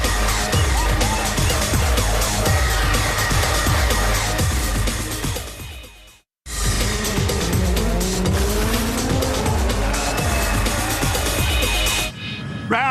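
DTM race cars at Zandvoort screaming past in a dense, continuous roar with gear changes and tire noise, a momentary cut midway, then the engine din resumes at full loudness.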